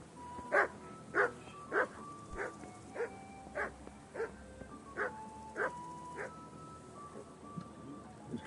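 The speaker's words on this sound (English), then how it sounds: "Why are you barking at me?" Dog barking in the medieval open-world game Kingdom Come: Deliverance, about ten sharp evenly spaced barks at close range over quiet ambient game background, no talk.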